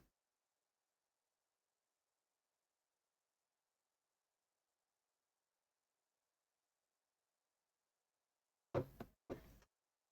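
A door lock is turned: after long near-silence, two quick sharp clacks of the latch and bolt land close together near the end, crisp and close.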